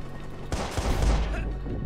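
Rapid bursts of gunfire from the video game Watch Dogs, dense and loud, rattling on continuously for a couple of seconds after a brief quieter lead-in.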